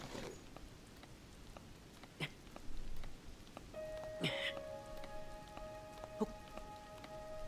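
Rain in the video game Zelda: Tears of the Kingdom, a soft continuous patter of drops with a few sharper splashes, accompanied by chiming game tones partway through.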